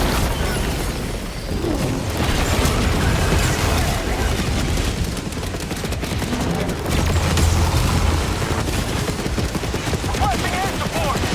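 Orbital strike explosions and gunfire from the video game Helldivers 2 form a dense, continuous barrage of booms and rapid shots, loud throughout with no quiet gaps.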